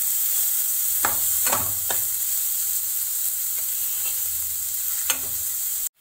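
Khoya (milk solids) cooks in a pan for laddu, giving a steady soft sizzle with a few scraping stirs of a spoon, close and alone without speech.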